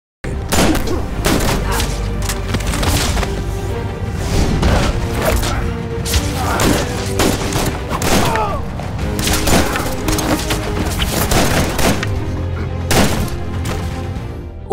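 Film gunfire erupts in a shootout scene where Ryder shoots Jack, loud repeated blasts and booms packed densely over a continuous dramatic soundtrack without pause.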